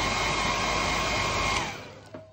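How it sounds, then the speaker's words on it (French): A hair dryer blows on a freshly painted miniature figure with a steady loud whirring hiss close by, then switches off and spins down near the end, with no talking. "Un petit coup de sèche-cheveux."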